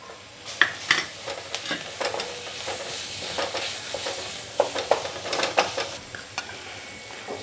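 Garlic ginger paste sizzles in a hot pan of oil with curry leaves and green chillies while a spoon stirs it, giving steady frying hiss broken by repeated scraping strokes, with no voices.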